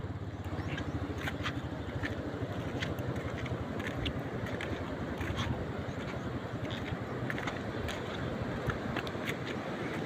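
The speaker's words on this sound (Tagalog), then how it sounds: "So paalis na yung bangka." A small outboard-powered bangka pulls away from a rocky shore, its steady engine drone running continuously with water wash and some wind buffeting the microphone.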